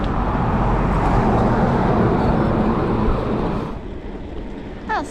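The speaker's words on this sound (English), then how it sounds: "There's an awful lot of traffic." Heavy road traffic on a busy route near a ferry crossing in Bournemouth, heard while cycling, a continuous broad rumble of passing vehicles that eases off toward the end as it grows quieter.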